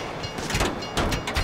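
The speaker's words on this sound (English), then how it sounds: "you'd know the train comes by right now" A train rushing past in GTA V, a loud broadband rumble with rhythmic clatter from close by, heard alone with no talk.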